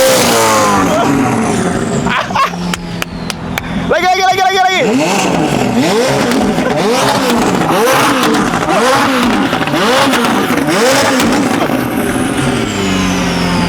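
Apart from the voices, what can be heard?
McLaren supercar engine revving through Gintani exhaust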